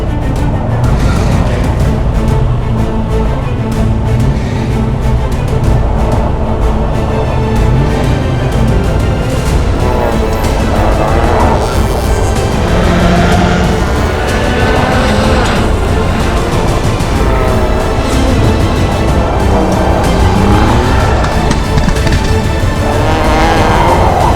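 Autocross race cars rumble and rev loudly on the starting grid at a national championship event, a dense continuous roar of several engines close by with rising and falling revs.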